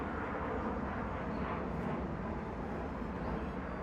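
Jet airplane flies over a hill at the Malvern Hill battlefield, a continuous broad roar that holds steady and loud throughout, with no voices.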